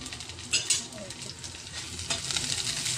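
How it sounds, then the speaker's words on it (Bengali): Five-spice and green chillies frying in hot oil while being stirred: a steady close sizzle with scraping stir strokes, a few sharper spatters, and the hiss swelling louder toward the end. "পাঁচফোড়ন আর কাঁচা লঙ্কা দিয়ে আমি একটু নাড়াচাড়া করব।"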